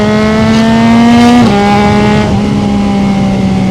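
A CFMOTO 675NK motorcycle engine revs steadily at high RPM, a loud, smooth sustained drone with a brief dip in pitch midway before settling back to an even tone, with no talk.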